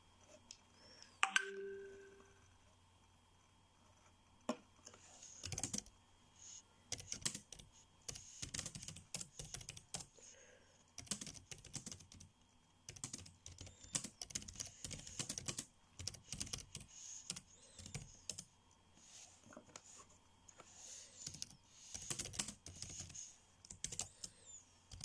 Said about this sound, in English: I know you can hear my keyboard typing.